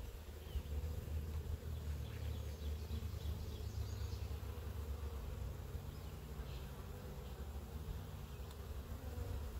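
A garden beehive opened for inspection gives off a dense, steady hum of many bees buzzing close by, continuous and unbroken throughout, with no talking.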